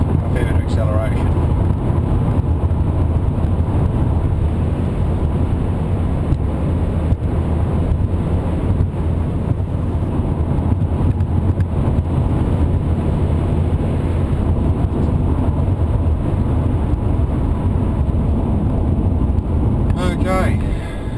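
A supercharged LS1 V8 in a Holden VZ automatic ute accelerates hard, a loud sustained engine roar with heavy wind buffeting throughout and someone speaking over it.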